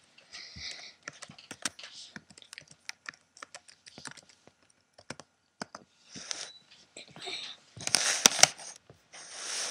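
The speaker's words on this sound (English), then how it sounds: "it's back to me typing in the password." Quiet, close keyboard typing: scattered clicky keystrokes in irregular bursts, with some rustling and soft breathy sounds mixed in.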